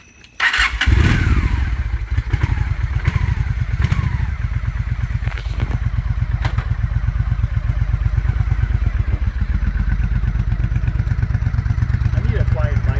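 A 2003 Honda Shadow motorcycle that had been sitting, now fixed, starts and settles into a steady, rapidly pulsing idle close by. A few sharp clanks sound over the first seconds, and people talk over the engine.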